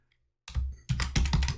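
Computer keyboard typing in a PowerPoint text box: two quick bursts of close, crisp key clatter after a brief silence, fairly loud and alone.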